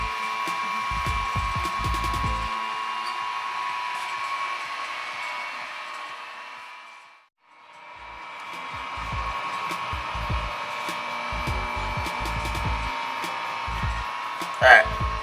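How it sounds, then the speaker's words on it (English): A homebrewing pump for a pumpkin ale batch runs with a steady electric whine. It dips briefly to near silence midway and then spins back up. Clicks and handling knocks sit underneath, and someone speaks quietly. "So now we're going to go ahead and turn on the pump and set our flow."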